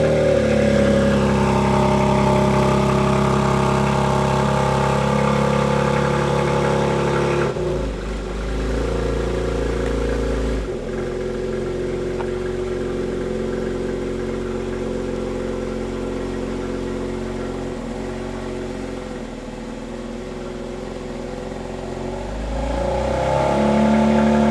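A car engine, a BMW X3M tuned with a JB4, roars steadily and loudly up close, revving under acceleration with a brief dip in pitch and a surge again near the end.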